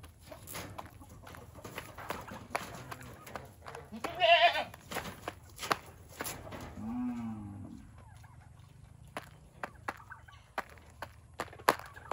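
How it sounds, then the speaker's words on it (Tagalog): A goat bleats loudly nearby, then another wavering bleat follows, over a background of scattered clicks and rustling. "Ayan yung mga kambing natin."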